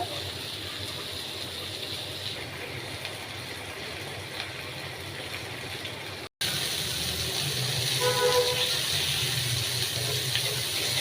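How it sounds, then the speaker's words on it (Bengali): Pabda fish coated in turmeric, salt and chili powder fries in hot oil, a steady broadband sizzle running continuously, briefly cutting out and returning slightly louder. "এখন আমি মাছটি ভালোভাবে ভেজে নিব।"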